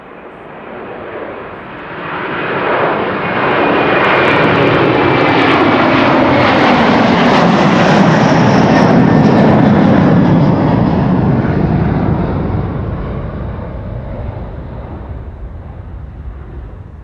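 Airliner climbing out from Amsterdam Schiphol Airport, a loud broad engine roar swelling over a few seconds, holding steady, then slowly fading as it moves away, with no voices.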